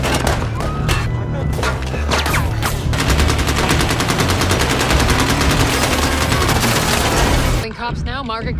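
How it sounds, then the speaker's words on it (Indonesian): Sustained rapid gunfire from a film shootout between a SWAT team with police and a squad of assassins, loud bursts and overlapping shots filling the scene nearly continuously before cutting off near the end. "Tim SWAT dan pihak kepolisian pun terlibat baku tembak dengan pasukan pembunuh tersebut."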